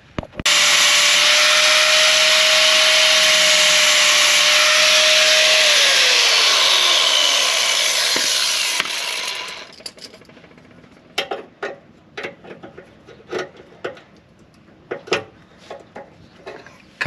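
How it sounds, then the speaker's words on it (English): An angle grinder cuts off a metal part while a CBI Under Armor is being installed: a loud, steady high whine for about nine seconds, its pitch dropping as it winds down, then scattered clanks and taps of handling. "I think it's going to be less of a hassle to grind it off."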